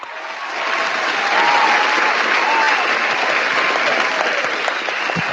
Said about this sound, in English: Virtual clap, please.